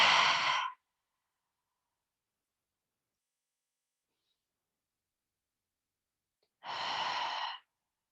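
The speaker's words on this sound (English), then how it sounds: "breathing in through the nose, exhaling out through the mouth" Two deep breaths, drawn in through the nose and let out through the mouth during a guided stretching session for the low ribs and hip flexors. Each is a close, soft, airy rush, separated by a long silence.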